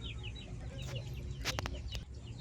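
Native chickens cluck and chatter on a farm at feeding time with Muscovy ducks nearby, several soft, scattered calls and a few sharp clicks over a low rumbling background, faint and distant.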